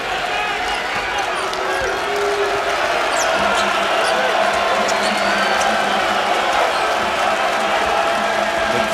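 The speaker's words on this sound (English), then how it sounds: "Crowd here at Cassell Coliseum roaring on the Hokies defense." A crowd roars at Cassell Coliseum during a Virginia Tech Hokies men's basketball game against NC State, cheering for the home defense in a loud, sustained wall of noise with sneaker squeaks and ball bounces.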